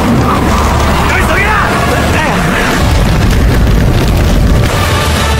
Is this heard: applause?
no